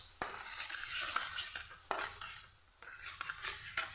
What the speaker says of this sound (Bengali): নাড়িয়ে ছাড়িয়ে নেব ভালো করে